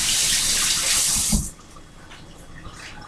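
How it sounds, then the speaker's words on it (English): Water gushing loudly from a kitchen tap while hands are washed during meal preparation, a strong hiss that cuts off abruptly after about a second and a half, leaving a quiet room. "Let me wash my hands."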